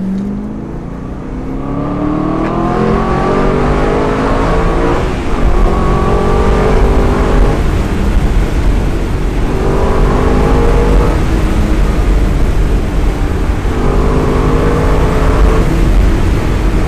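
A 4.7-litre V8 in an Aston Martin V8 Vantage Roadster with a manual gearbox revs hard from the cabin, loud and sustained, climbing through several gears with rising pitch sweeps and brief dips between shifts.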